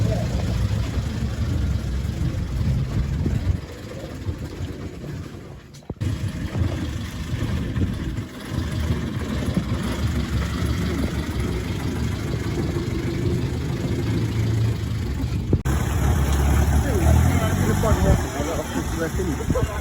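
A restored Austin 7 Ruby runs on its first drive, the small engine chugging and idling steadily up close for the whole stretch, with people talking over it now and then.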